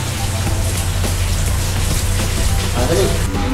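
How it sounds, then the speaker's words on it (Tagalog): Heavy rain falls steadily as a dense, even hiss with a low rumble beneath, continuous through the short stretch, and people talk faintly under it. "Nakikita nyo naman na umuulan. Gano kalakas yung ulan."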